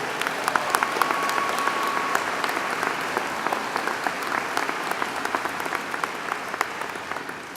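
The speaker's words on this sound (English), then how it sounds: "Let's give them a big round of applause here" A large audience applauds a band at a University of Wisconsin ceremony, with steady, dense clapping sustained for several seconds and no voices over it.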